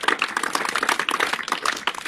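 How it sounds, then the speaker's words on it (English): Several people clap their hands in a quick, irregular burst of sharp, close claps lasting about two seconds. "Clap."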